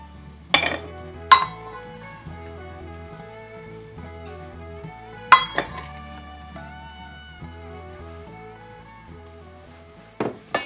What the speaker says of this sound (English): I'm going to go ahead and measure 2 cups of sugar into my bowl.